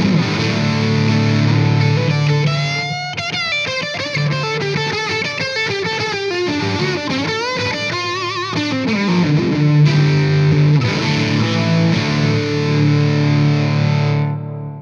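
An electric guitar played through an EWS Fuzzy Drive distortion pedal, using the same pickup, gives loud, continuous fuzzy chords and bending lead lines with long sustain and no talking.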